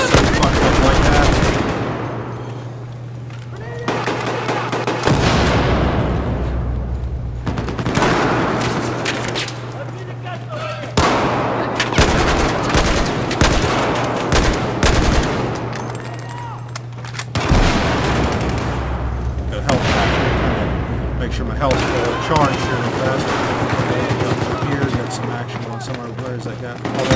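Gunfire from the video game Battlefield 4, with repeated bursts of automatic fire and heavy booms. A steady low drone runs beneath, and a player talks over the shooting throughout.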